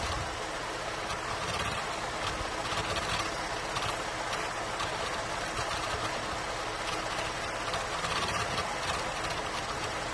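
A Holden VZ Commodore engine idles with a misfire, running without spark on cylinders 1, 3 and 5. It gives a steady, close, rough churning drone with no voices over it.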